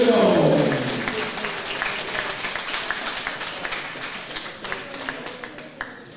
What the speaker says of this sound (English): please keep your applause going for our Eastern District silver medalist, Iro Zuma.